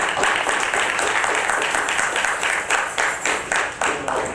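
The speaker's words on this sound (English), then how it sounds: "Let's give him a round of applause" An audience applauds Brother Phil Valentine at a lecture in New York, a full, steady round of clapping that swells in uneven waves before easing toward the end.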